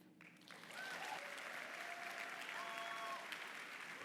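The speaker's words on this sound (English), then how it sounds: "Please give a big round of applause to welcome Alvin Sturdivant to the stage" A conference audience at an ACUHO-I event claps to welcome Alvin Sturdivant to the stage, the applause swelling from a thinner start into a full, sustained roar that holds steady, heard from a distance.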